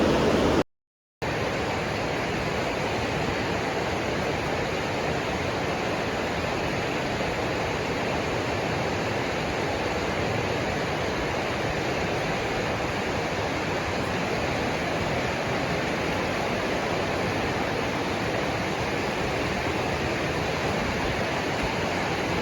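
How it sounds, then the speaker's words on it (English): River water rushing steadily through Piers Gorge in Michigan, a dense, continuous roar of flowing current heard close up and loud, unbroken apart from a brief gap near the start. "The river here is essentially flowing from west to east."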